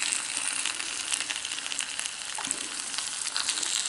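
Potato slices frying in hot oil in a pan for pommes de terre Anna give a steady, bright sizzle that carries on without a break, with faint clinks over it.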